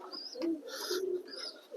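Domestic pigeons in a loft coo softly at close range, low throaty calls repeating across a quiet background with a faint chirp or two.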